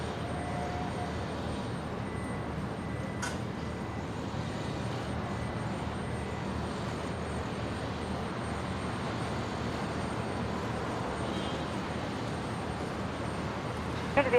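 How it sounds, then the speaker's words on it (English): A Qantas Airbus A330 on a repositioning flight from the Gold Coast arrives at Brisbane Airport, a steady, moderately loud jet engine rumble that holds constant from start to finish. "We've got the Qantas 330 just about to arrive on that repositioning flight from the Gold Coast"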